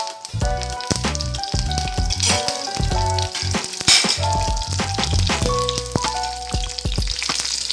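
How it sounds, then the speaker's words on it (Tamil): Mustard seeds, a dried red chilli and a bunch of curry leaves sizzle and crackle in hot oil, steady frying hiss with scattered pops and a few clinks of a utensil against the pan, close and fairly loud. "மறுபடியும் கொஞ்சம் எண்ணெய் விட்டு கடுகு ஒரு வரமிளகாய் ஒரு கொத்து கருவேப்பிலை"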